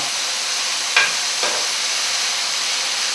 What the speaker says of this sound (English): Making quite a sizzle noise